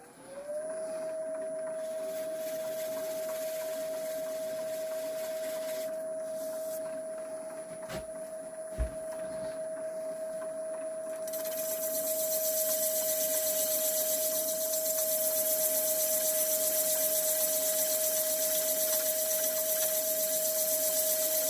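Sanding an olive wood platter on a lathe, working with the grain at 120 grit: a steady, continuous motor whine with broadband abrasive hiss that grows louder and brighter partway through, with no talking.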